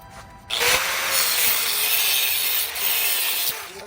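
A power tool cuts a part to size during an air-suspension install on a 2023 Tesla Model Y. A close, steady grinding whine lasts about three seconds before it stops.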